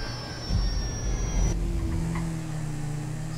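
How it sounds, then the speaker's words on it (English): Engine of a failing airplane going down in GTA 5, a steady mechanical drone with a high whine that drops away midway, leaving a lower hum. "Engine gone. Plane's coming down."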